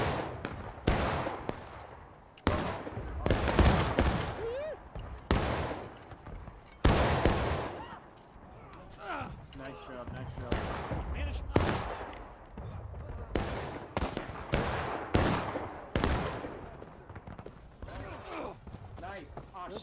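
Musket volleys from a War of Rights skirmish, ragged rifle shots cracking close and far in repeated bursts through the whole stretch, with shouted voices among the firing.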